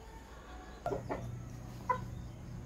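A few soft clucks from Sweater Kelso gamefowl hens close by, brief and quiet over faint background hum.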